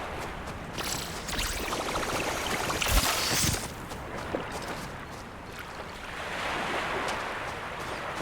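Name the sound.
ocean waves in the video game Lou's Lagoon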